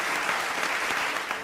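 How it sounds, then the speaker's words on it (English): Steady applause from a studio audience fills the room for a chef on a televised cooking competition, dense and even throughout, with faint voices underneath. "round of applause for our resident chef"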